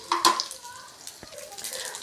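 Tempering being stirred and fried in a pan: a light sizzle under sharp metal clinks of a spoon against the pan, with one bright strike early and scattered scraping after.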